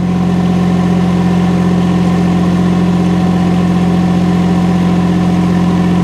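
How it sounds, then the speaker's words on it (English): A UHI UME 12 mini excavator's engine runs steady and loud while driving an auger attachment, a constant droning hum close by with no talk. "it starts the auger drive, so now it's spinning in a clockwise direction"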